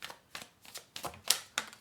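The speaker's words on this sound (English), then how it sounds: "I don't always shuffle through the whole spread, but this one, they said shuffle." A deck of tarot cards is shuffled by hand, a quick series of soft riffling snaps and flicks at close range with no talking.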